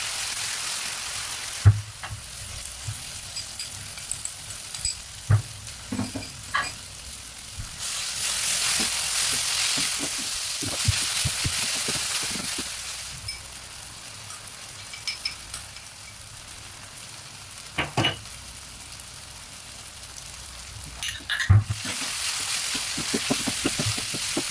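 Chopped tomatoes and onion fry in turmeric-infused oil for a vegan chickpea biryani base, a steady soft sizzle with occasional louder crackles and stirring scrapes across the pan.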